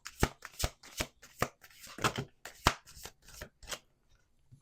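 A deck of affirmation cards shuffled up close, a quick run of crisp snapping and slapping riffles that thins out and fades near the end, with no talk.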